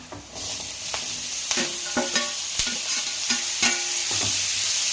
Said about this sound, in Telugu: ఇది బాగా ఆయిల్లో ఉడకాలండి